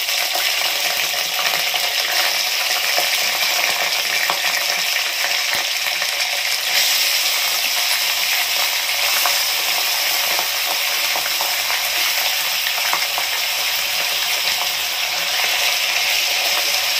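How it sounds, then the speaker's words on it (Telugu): Chicken frying in a pan with onions for a green masala chicken curry: a dense, loud, continuous sizzle heard up close, steady throughout with faint stirring clinks and no speech. "ఇందులో వేసి మనము ఆ చికెన్ వేగుతూనే ఉండాలండి."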